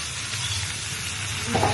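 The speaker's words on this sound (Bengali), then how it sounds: "টমেটোটা কিন্তু আলগা ভাজা হচ্ছে" Steady sizzling of tomatoes frying in a pan, a continuous crackling hiss with a brief clatter near the end.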